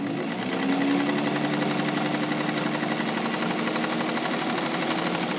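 A restored vintage White all-metal rotary sewing machine stitches steadily, its motor whirring and needle chattering close by, starting slow and then speeding up into a continuous hum.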